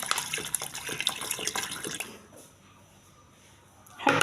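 Water splashing and trickling into a pot over chopped onion quarters while making a Tunisian bird's-tongue pasta soup with lamb sausage, a steady broadband pour for two seconds, then quiet with a faint trickle before a louder splash at the end.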